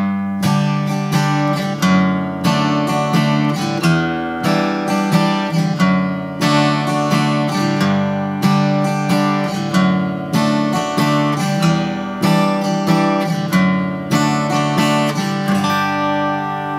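Guitar playing the chords of Away in a Manger with a bass line that descends and then climbs back up, strummed steadily and close at an even volume with no talking throughout.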